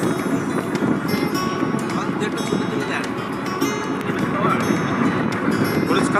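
A trawler boat travels across open haor waters, giving a continuous rumbling engine and water drone mixed with wind buffeting the microphone, close and steady throughout.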